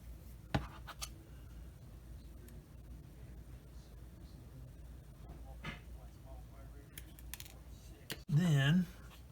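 Plastic model kit parts for a Meng 1/35 Jagdpanther being snipped off the sprue, a few sharp close clicks and cuts amid quiet workbench noise, ending in a loud brief buzzing burst.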